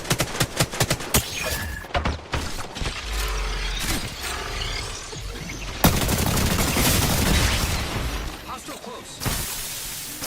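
Gunfire from the 301 rifle in a video game: rapid sharp cracks in bursts at first, then dense mechanical clatter and crashing effects, loud and near, with commentators talking over parts of it.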